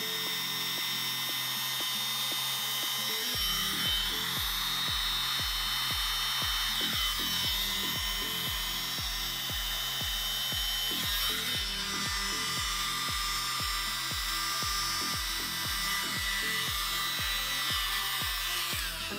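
Mini air blower with a small nozzle attachment pushing acrylic paint around, a steady high whirring hiss with a rapid fluttering pulse throughout, close and continuous with no voices.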